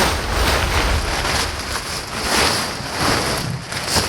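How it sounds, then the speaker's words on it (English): Steady, loud wind noise on an open sailboat at sea, a broad rushing roar that surges and eases in gusts with water wash beneath, no talking. "And the wind's picking up"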